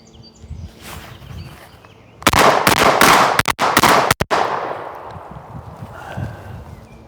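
A Mossberg 930 semi-automatic shotgun fires a rapid string of loud, close blasts at a tree stump outdoors, the shots running together before echoing away.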